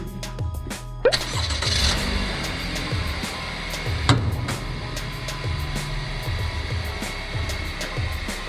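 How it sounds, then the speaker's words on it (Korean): A used Chevrolet Impala's 2.5 engine, at 20,000 km, turns over and catches, then settles into a steady, even running hum close by. "지금 시동 걸었는데요"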